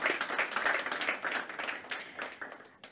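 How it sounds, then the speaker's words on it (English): A conference audience at a corporate partnership event applauds a speaker being welcomed on stage, with steady, fairly close clapping that swells in waves and tapers off toward the end. "A round of applause, please, for Dumo"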